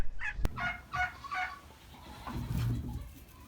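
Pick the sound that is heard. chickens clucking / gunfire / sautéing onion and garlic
chickens clucking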